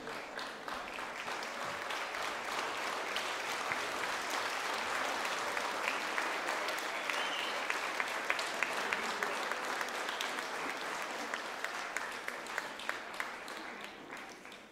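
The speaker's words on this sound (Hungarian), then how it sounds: "egy nagy tapsot még" An audience at a children's folk music and folk dance festival applauds steadily and warmly for the whole stretch, a dense wash of many hands clapping at an even level, with no other sounds standing out.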